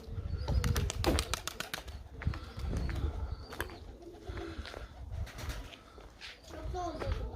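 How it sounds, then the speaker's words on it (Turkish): Pigeons cooing close by, with bursts of flapping wings as a flock takes off after a hawk dives at them, under nearby talk in Turkish. "bayağı bir kuşumuz kalktı"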